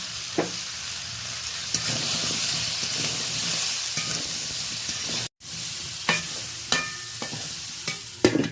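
Vegetables seasoned with salt and turmeric fry in a pan with a constant loud hiss and sizzle, broken by occasional stirring scrapes and a brief drop in sound near the end.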